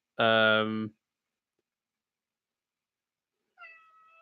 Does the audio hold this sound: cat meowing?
yes